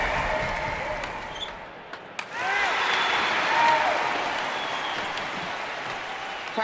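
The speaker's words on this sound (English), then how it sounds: "Crowd starting to get into the game as the rally starts building." A crowd applauds at a tennis match in a London 2012 Olympics video game, steady broad clapping swelling and fading, with a ball bouncing and a racket striking now and then and a commentator talking over it.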